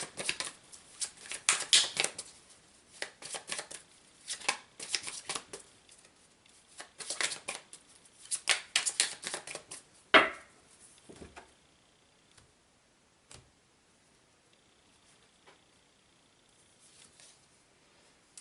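Tarot cards are shuffled and drawn from the deck in quick, crisp riffling clatters for about ten seconds, then a single sharp snap, with a few faint card taps trailing off into near silence.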